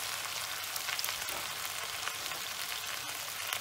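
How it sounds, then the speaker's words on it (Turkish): Peppers frying in a pan give off a steady, dense sizzle that holds at an even level throughout, close up and with no voices. "Yemeğimizi bir daha karıştıralım. Biberlerimiz de hafiften ölmeye başladı."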